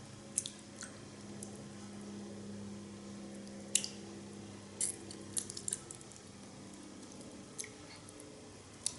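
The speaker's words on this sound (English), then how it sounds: "I'm tearing konjac here." Quiet wet squishing and small tearing clicks as konjac is torn by hand come in scattered bursts over a low steady hum, close by and soft, without talk.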